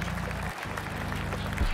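Continuous crowd cheering and applause from a PGA Tour golf video game, a steady mid-level roar with a brief dip partway through, heard alone without talk.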